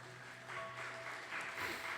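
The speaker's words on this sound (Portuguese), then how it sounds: "Pode aplaudir Jesus em forte." A church congregation applauds during a Sunday service, a brief burst of soft, diffuse clapping that swells slightly midway and stays fairly distant, without voices over it.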